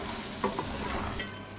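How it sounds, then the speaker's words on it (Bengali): Beef is stirred and fried in a pan with dried chilies for a spiced bhuna, giving a close, busy sizzle with a couple of quick scraping stirs from the spoon. "এবার মাংসগুলো খুব সুন্দর করে নেড়ে চেড়ে কিছুক্ষণ কষাবো।"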